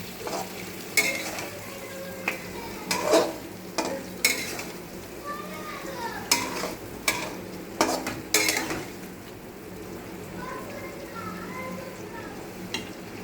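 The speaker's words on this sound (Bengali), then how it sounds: "আস্তে করে নাড়িয়ে দেবো মশলাটা, যাতে মাছ এবং আলু পটলের সবজির সঙ্গে মিশে যায়" Spices are stirred slowly into a curry of fish, potato and pointed gourd in a pan on a lowered gas flame, with a low sizzle under repeated scraping and clinking spoon strokes, close and moderately loud, with soft talk now and then.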